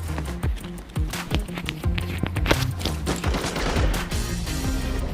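Rapid rifle fire in the shooter game Arena Breakout, a quick rhythmic string of sharp close shots cracking one after another over a busy background, loud and continuous with no talk.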